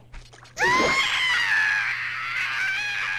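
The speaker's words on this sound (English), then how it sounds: "That's a really spooky scream." A loud, eerie high-pitched scream from the video game Zelda Majora's Mask erupts after a brief quiet moment and wavers on for several seconds, gradually settling.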